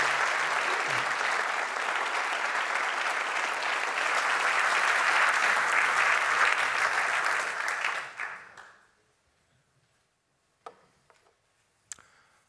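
A lecture audience gives a big round of applause to welcome a distinguished economics lecturer, a steady full crowd clapping that holds for about eight seconds before fading out, followed by a few isolated knocks in near silence.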